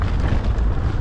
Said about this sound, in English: windy at the top of this bit